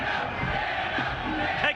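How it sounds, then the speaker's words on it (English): A large sports crowd chants a player's name, Dano, in a rhythmic roar that sits in the background, loud and sustained with shouted voices rising and falling. "the crowd chanting Dan O behind you"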